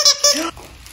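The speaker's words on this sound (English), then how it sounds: "He's full of crinkledy paper and he squeaks." A squeaky, crinkly rubber alligator dog toy gives two loud, close rubbery squeaks in quick succession, followed by softer crinkling.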